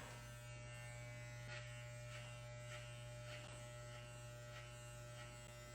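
Electric hair clippers fitted with a number 3 guard cutting hair during an at-home haircut, a steady close electric buzz with a constant motor hum, faint and continuous with slight changes as the blades pass through hair.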